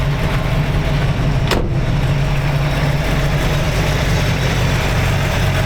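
A cold 1954 Chevy DeLuxe coupe with a 348 Tri-Power V8 idling steadily, a loud, even low rumble close by, broken once by a brief sharp click.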